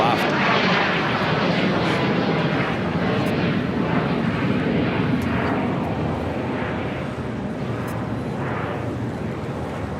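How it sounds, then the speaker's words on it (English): A Swiss Boeing 777-300ER comes in to land on runway 25 left at LAX, its jet roar loud and broad, holding steady before easing slightly, with voices in the background. "Swiss Flight 40, the 777-300ER, about to touch down at 25 left"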